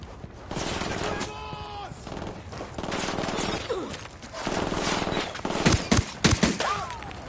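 Volleys of gunfire ring out in a game after an order to fire, repeated loud rounds over several seconds with voices and shouting mixed in.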